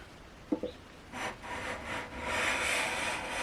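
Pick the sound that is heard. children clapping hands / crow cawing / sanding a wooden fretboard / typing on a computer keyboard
sanding a wooden fretboard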